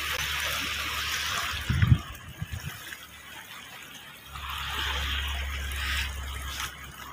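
Old floodwater flows steadily at Manchar Lake, a continuous rushing wash of water with a brief low thump partway through.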